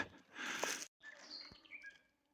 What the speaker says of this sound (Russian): Птица-болтушка.